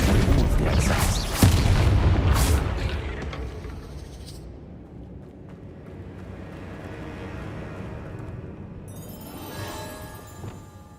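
A Bombarda blasting spell in Hogwarts Legacy lands as a loud, close boom in the first few seconds, then fades to a quieter rumbling tail with faint debris sounds.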